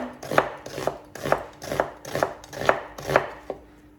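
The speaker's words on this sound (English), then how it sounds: "slice your onion thinly" A knife slices an onion thinly on a cutting board in seven or eight crisp, evenly spaced chops. Each stroke lands with a sharp, close thud, and no voice is heard.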